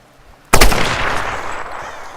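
A single loud, close gunshot in the Tomb Raider video game cracks after a moment of near silence, followed by a long echoing tail that slowly fades.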